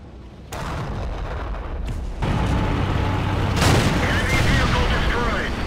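Tank cannon fire from a Pz.Sfl. IVc tank destroyer in World of Tanks, heavy booming shots over a continuous rumbling engine and battle din, with one louder blast in the middle of the sequence.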